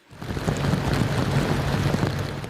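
Heavy rain and a wind storm lash Southern California, a dense, continuous roar of rain with gusting wind buffeting the microphone that swells in after a brief quiet start and stays loud throughout.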